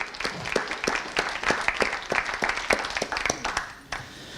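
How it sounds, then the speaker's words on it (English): Audience applause at a book signing event, honoring Houston Community College: a scattered but steady patter of hand claps with distinct individual claps standing out, moderately loud and continuing throughout without any talk. "Applause to Houston Community College"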